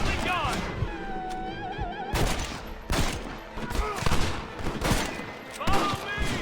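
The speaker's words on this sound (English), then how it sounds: "Gatling gun!" Rapid gunfire from a Gatling gun in the video game Red Dead Redemption, a dense, loud burst of shots running through the whole stretch and mixed with other game noise and voices.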